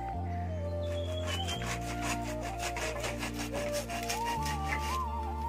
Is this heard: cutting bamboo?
yes